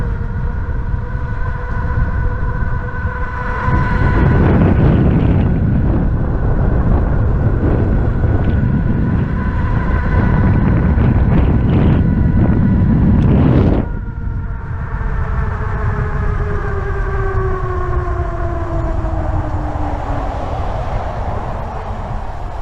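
Steady rushing wind buffeting while riding a Ridstar Q20 eBike on a speed run near 30 mph, loud and continuous, surging heavier in the middle before easing, with a faint whine of motor tones underneath.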